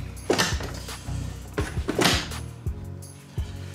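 A bread oven door bangs shut with a few solid thunks and rattles close by, amid a low background hum in a kitchen.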